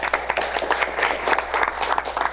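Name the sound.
audience applause for the publisher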